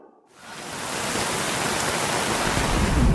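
Steady rain recorded at a house, a dense broadband hiss rising in over the first half second and then holding loud and even with no voices.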